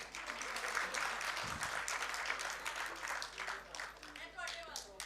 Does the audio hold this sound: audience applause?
yes